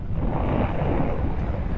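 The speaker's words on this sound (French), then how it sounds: "j'ai du vent partout là." Steady, loud wind buffeting the microphone while riding a 2025 Aprilia RSV4 sport motorcycle, a continuous broadband roar with no break and no speech.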